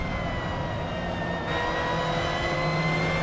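A Mazda MX5 Cup race car accelerates at Spa in a racing game, its engine a steady loud drone with a rising whine that climbs in pitch, no voices.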